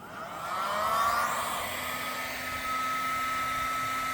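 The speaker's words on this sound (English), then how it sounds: "Let's go ahead and turn on the heat gun" A heat gun set to maximum, powered through a Renogy inverter with auto transfer switch, blows with a steady, loud airy roar and a thin whine that holds evenly after a quick ramp-up.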